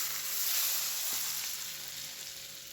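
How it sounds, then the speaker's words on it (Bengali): Boiling mustard oil poured over spiced mango pieces for a hot pickle hisses in a steady, bright sizzle that slowly softens, close up with no talking. "মশলা মাখিয়ে রাখা আমটার ওপরে এই ফুটন্ত তেলটা আমি দিয়ে দেবো।"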